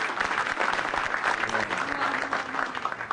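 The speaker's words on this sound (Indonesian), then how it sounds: "Tepuk tangan dong." A crowd claps steadily at a stand-up comedy show, the applause dense and sustained throughout with no break.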